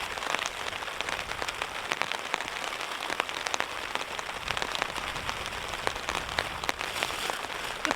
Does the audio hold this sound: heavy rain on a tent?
yes